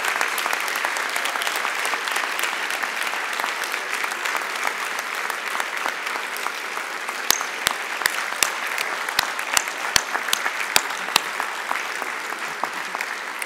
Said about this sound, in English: give a hearty round of applause to all of the people, family, faculty, loved ones, who supported you on this journey